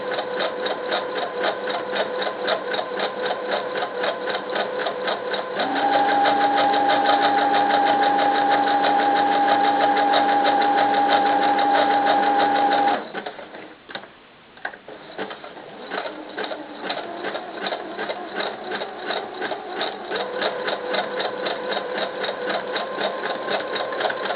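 A sewing machine runs zigzag stitches along the seam of small doll pants. The motor whirs steadily and close, with a held whining tone through the middle. It stops briefly, then starts stitching again at the same steady pace.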